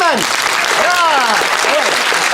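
A theatre audience gives an ovation, a dense roll of clapping heard close and loud, with a voice and whistle-like tones running over it and voices talking faintly underneath.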